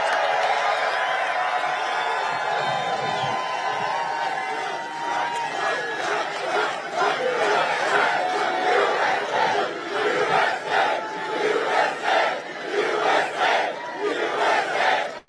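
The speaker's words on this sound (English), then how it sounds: "What a crowd." A huge crowd at an outdoor political rally for America's 250th anniversary cheers loudly and continuously, building into rhythmic chanting bursts and roars that keep pulsing for the whole stretch.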